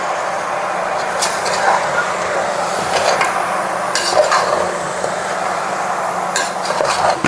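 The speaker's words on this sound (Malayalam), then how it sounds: "അത്രയും സാധനങ്ങൾ ഇട്ട് കൊടുക്കാണ് ഇതുകൂടെ ഇട്ട് നന്നായിട്ടൊന്ന് ഇളക്കി കൊടുക്കാം" Buffalo meat curry being stirred with roasted spice powders and garam masala in a pot, a continuous loud thick sizzle with rhythmic scraping and clinks of the spoon against the pot, no talk.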